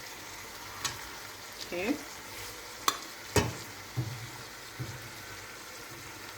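Rice is added bit by bit and stir-fried in a hot pot, with a steady sizzle broken by several sharp scrapes and clatters of the utensil. A voice speaks briefly.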